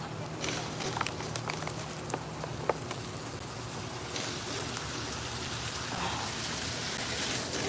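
Rain falling outdoors on a hot day, a steady dense hiss of drops with occasional sharper taps and a few clicks or footsteps, heavier toward the end, with no talking.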